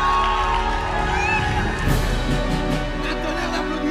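A loud crowd at a pageant grand finale cheers and applauds, with shouts and whoops over a continuous roar that stays steady throughout.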